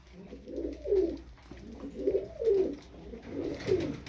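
Şaşkın tumbler pigeons coo close by in a steady repeating rhythm, three soft throaty phrases one after another.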